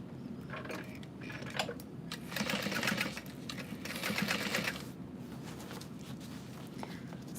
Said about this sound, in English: we're going to sew about 1/4 of an inch from the outer edge